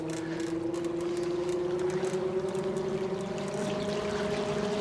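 Strong water current churning in an Endless Pools swimming pool, a steady rushing wash of moving water that stays constant throughout, with no voices.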